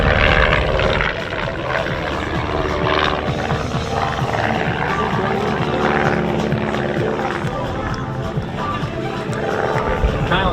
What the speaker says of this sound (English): Diving in now from the left to begin his aerobatic display